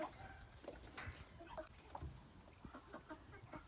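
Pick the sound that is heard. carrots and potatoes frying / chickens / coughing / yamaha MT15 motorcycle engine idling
chickens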